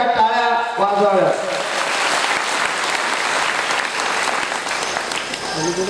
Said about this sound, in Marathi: एकदा आशीर्वादाच्या टाळ्या वाजवाव्या